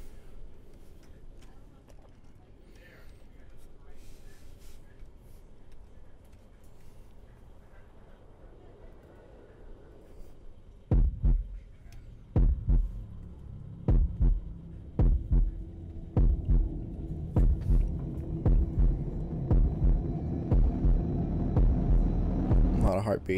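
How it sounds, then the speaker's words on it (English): Heartbeat effect in Shadow of the Tomb Raider, a low muffled hum that gives way to a steady, close lub-dub thumping repeating about once a second under a rumbling background. "Heart beating."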